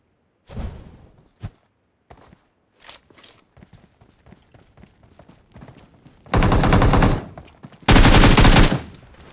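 Groza assault rifle fire in a shooter video game: two loud sustained automatic bursts, each about a second long, preceded by scattered game noises, footsteps and shuffling.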